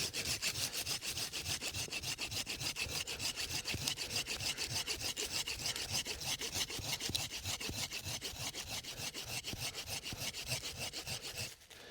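A hand saw makes the finishing cut on a coppiced tree stump with a fast, even back-and-forth rasp that continues steadily for about twelve seconds, close and alone.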